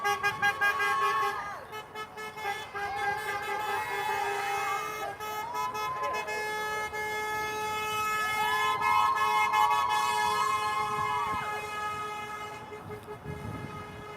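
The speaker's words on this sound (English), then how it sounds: "they honk and they honk with support" Passing cars on a street by a protest honk their horns in support, with sustained toots and overlapping horn tones over traffic noise, alongside faint background voices.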